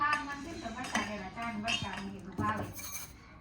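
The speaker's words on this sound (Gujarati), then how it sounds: "હવે ખોલી લીધો ખાંડનો ડબલો, ખાંડ નાખી દેવાની છે" A metal sugar tin being handled and opened, then a spoon clinking against the tin and cup while sugar goes into tea, with scattered light metallic taps and chinks over a soft background.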